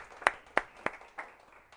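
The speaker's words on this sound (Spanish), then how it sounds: "Damos un fuerte aplauso a esta palabra del Señor" A church congregation claps in four sharp, evenly spaced beats, clear and moderately close in a quiet room.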